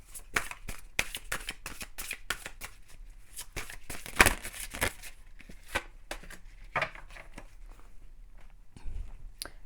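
Tarot cards shuffled and drawn for an advice card, a run of soft, close papery slaps and riffles in irregular bursts, faint, with no talking.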